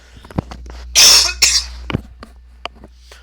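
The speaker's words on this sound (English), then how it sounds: "Sorry, I got a cough." One person gives a short, harsh cough burst, followed by a second weaker one, close to the microphone in a quiet room. Small clicks and soft mouth sounds come before and after.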